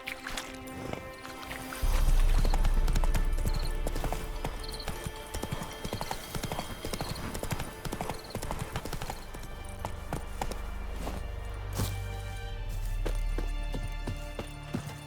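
Roach, a horse in The Witcher 3: Wild Hunt, gallops with steady, close hoofbeats over a background of game music and ambience, with a whinny possible early on.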